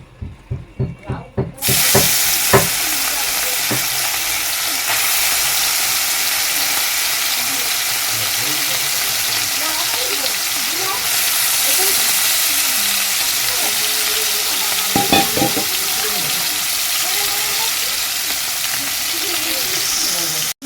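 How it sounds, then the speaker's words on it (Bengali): Fish drops into a hot wok for reddish frying: a few sharp clicks, then a loud burst of sizzle that settles into a close, steady hiss for the rest of the time. "কড়াইটাও তেতে গেছে, আমি এবার মাছগুলো দিয়ে দিচ্ছি"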